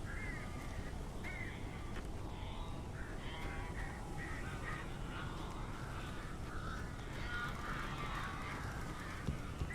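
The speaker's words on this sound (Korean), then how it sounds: "아니 왜 새들이 지랄이여?" Birds squawk and caw repeatedly in Alan Wake Remastered, a dense, faint flock of harsh calls layered over low game ambience with no talking.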